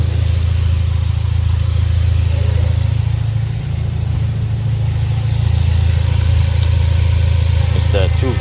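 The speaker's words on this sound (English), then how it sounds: "So far running good, very quiet compared to some of the other EcoBoost motors" A 2017 Ford Focus RS with the 2.3-liter EcoBoost engine idles steadily close by, a low, even hum with no revving and little clatter, running continuously throughout.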